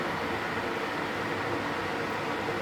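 An electric kettle boils water in a home kitchen while a one-pot spaghetti bolognese is being made, giving a steady, unbroken broadband hiss and rumble at moderate level, with no speech over it.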